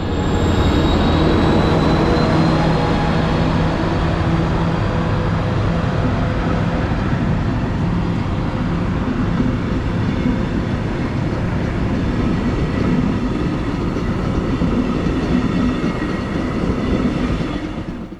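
A Via Rail Venture passenger train pulls away from Oshawa station, its steady rumble and wheel clatter filling the clip with faint high squeals, loud and continuous without voices.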